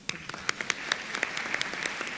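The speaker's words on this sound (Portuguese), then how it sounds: "Uma salva de palmas." Brief applause from a conference audience, a light scatter of separate claps, faint and somewhat distant, with no talking over it.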